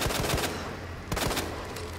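Gunshots in the video game Resident Evil 2, played as Claire, come as two quick clusters of loud, punchy reports over a low background rumble.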